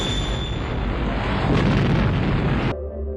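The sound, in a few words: bomb explosion in a film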